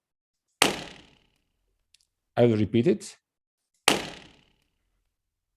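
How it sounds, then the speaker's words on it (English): Two recorded balloon bursts play back in a room with flutter echo, each a sharp, loud bang with a short ringing tail, separated by a brief spoken remark. "I can play back the sound of the bursting balloons"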